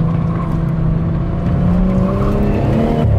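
A BMW 435i accelerates hard after a downshift into second gear, with the engine note rising steadily. The sound is loud and close, heard from inside the car, with no talking.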